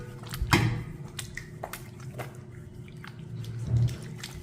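Water splashed onto the face and neck to rinse off a herbal bath powder, giving soft scattered splashes and drips with a couple of louder wet slaps, close and fairly quiet, with no talking.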